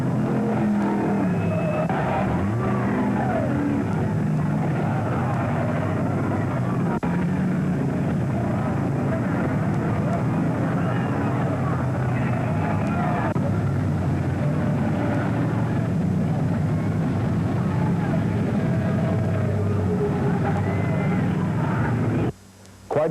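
Race car engines roar continuously at a distance during the Enduro 250 race, rising and falling as cars speed around a track, with a voice talking faintly underneath.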